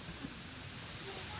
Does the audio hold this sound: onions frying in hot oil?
no